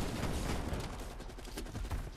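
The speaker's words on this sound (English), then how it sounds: "I need him to shoot this tree." Rapid gunfire in a zombies-mode shooter game, dense bursts of shots running continuously through the clip at a fairly steady level with no talking.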